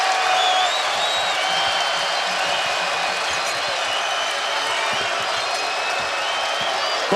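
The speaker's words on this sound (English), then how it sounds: "this crowd's coming alive" A college basketball crowd at an NCAA tournament game between Kentucky and Illinois roars and cheers continuously, a loud dense wash of voices with whistles and shouts, commentators talking over it.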